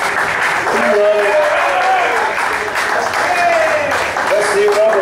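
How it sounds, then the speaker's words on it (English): Audience applause at a traditional country music show at Robert's Western World, steady clapping throughout with cheering voices and some talk mixed in. "Please give him a nice round of applause."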